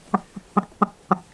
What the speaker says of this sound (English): Are you a nice chicken?